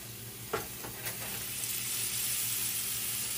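Olive oil sizzles steadily in a frying pan, a close hissing wash that swells slightly after a couple of soft knocks early on, with no voices.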